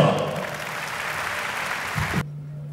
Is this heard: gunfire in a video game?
no